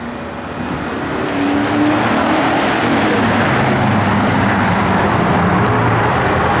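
A 1972 Chevrolet Chevelle SS with Flowmaster exhaust and an aluminum rear end cover, raised on a shop hoist, runs its engine with a loud, deep rumble that builds during the first seconds and then holds steady, with no talk over it.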